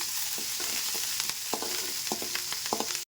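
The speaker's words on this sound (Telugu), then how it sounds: "ఇలా నూనె వేడెక్కినాక ఆవాలు, జీలకర్ర, మిరపకాయలు కొంచెం ఫ్రై అయ్యాక" Mustard seeds, cumin and chillies sizzle and pop steadily in hot oil, close and continuous, with scattered sharp clicks of stirring throughout.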